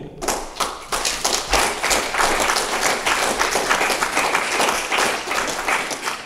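Lively applause from an audience at a German political speech in Ringsheim, a close, loud burst of many hands with distinct sharp claps and a rhythmic patter, sustained strongly throughout.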